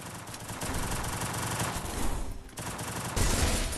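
Rapid, continuous gunfire from a video game rattles loud and dense throughout, with a short lull midway before another heavy burst of shots.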